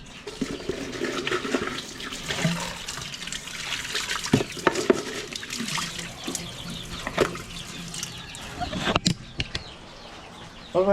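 Water splashes and pours into a container while a calamansi drink for gamecocks is mixed, an uneven liquid stream with bursts and gurgles, close by and mid-level, with occasional clinks and faint background voices.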